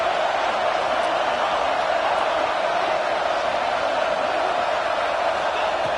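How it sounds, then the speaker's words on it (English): A stadium crowd roars in a College Football 25 video game, a steady, dense wash of cheering that holds at a constant loud level without breaks. "Listen to the crowd energy here in the early going."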